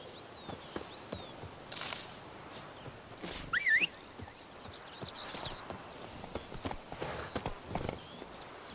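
Roach, the horse in the video game Witcher 3, walks with a steady clip-clop of hooves, moderately close, and a brief whinny-like call partway through. No one speaks.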